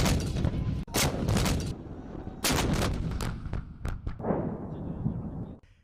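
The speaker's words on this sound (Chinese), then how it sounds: "展开首轮火力打击" Artillery shells fired by a Xinjiang Military District fire regiment during a field exercise, several loud booming blasts in quick succession with rumbling echoes and a distant roll of further reports between them.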